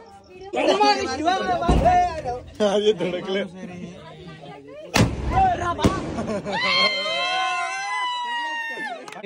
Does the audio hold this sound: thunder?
no